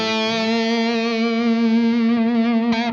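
An electric guitar holds a sustained, distorted note with vibrato that drifts sharp and never settles back to the original pitch, sounding loud, bright and continuously out of tune.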